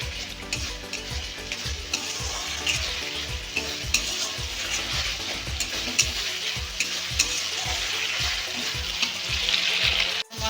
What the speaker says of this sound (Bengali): মশলাটা খুব ভালো করে কষিয়ে নাও